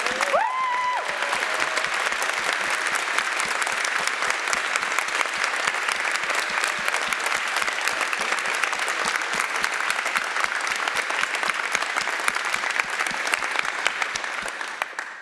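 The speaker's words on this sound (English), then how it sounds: "And last applause, I promise." An auditorium audience bursts into long, dense applause, steady rapid clapping that fills the room for about fifteen seconds, with a short whistle near the start and a slight fade at the end.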